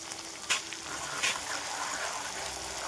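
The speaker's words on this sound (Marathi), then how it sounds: "आता आपल्याला टमाट्याची पेस्ट मस्त भाजून घ्यायची आहे छान त्याला तेल सुटेपर्यंत" Tomato paste sizzling in oil in a pan for dal makhani, a continuous frying hiss broken by two short stirring scrapes.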